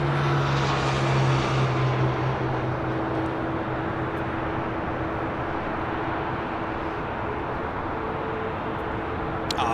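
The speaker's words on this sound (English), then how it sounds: "that Western Global Queen now starting takeoff roll" A Western Global cargo aircraft beginning its takeoff roll at LAX, a loud sustained jet engine roar with a steady droning hum that holds evenly across the whole stretch.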